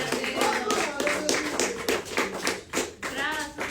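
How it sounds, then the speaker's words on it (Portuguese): Congregation applause in a church during a sermon, a sustained burst of clapping from many hands that swells and dips over several seconds, with some voices mixed in. "Uma salva de palmas que agradece o nome do Senhor."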